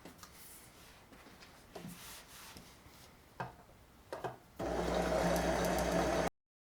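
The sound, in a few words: sewing machine stitching a skirt side seam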